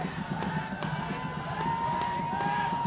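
A steady murmur of spectators filling the stands at a high school state quarterfinal football game, Capital vs. Mt. View, a distant even roar with faint scattered shouts and rhythmic crowd noise throughout.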